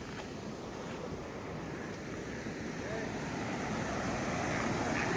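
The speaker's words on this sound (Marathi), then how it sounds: "कोकण कडा आणि इकडे धबधबे चालूच आहेत" Waterfalls rushing down the cliffs at Kokan Kada, Harishchandragad, in heavy monsoon rain, a steady broadband roar that stays dense and swells slightly louder toward the end, with wind and no talking.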